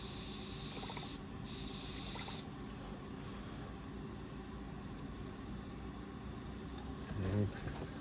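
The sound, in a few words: spray gun spraying paint on a model car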